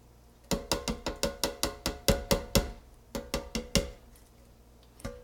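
Canned tomato juice glugs out of the can into a pot of turkey and sausage chili, a quick run of rhythmic hollow gulps with a metallic edge, close and alone, pausing briefly before a final glug.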